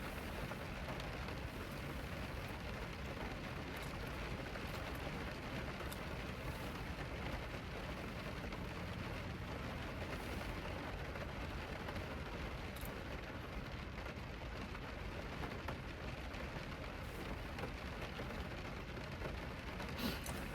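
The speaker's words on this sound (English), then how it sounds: "You can hear the rain. It is coming down." Steady rain pours down without pause, a dense even hiss of drops on surfaces throughout, with no voices.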